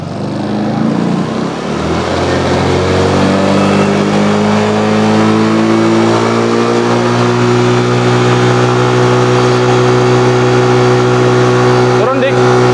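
A Yamaha Xeon scooter engine that overheats quickly is revved up in a workshop, holding a steady loud mid-pitched drone with rising harmonics, close by, with people talking over it.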